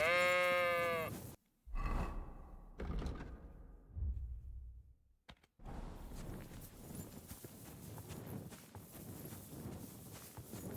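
Sheep in the video game Kingdom Come: Deliverance II, a loud close bleat at the start followed by hoof clip-clops and footsteps, with busy outdoor ambience for the rest.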